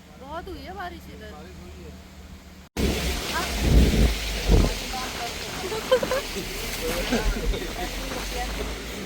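Heavy rain with thunder pours down in the jungle of Dudhwa National Park around a stranded vehicle. A short tonal stretch cuts off abruptly into a loud, dense, steady roar of rain with low rumbling bursts.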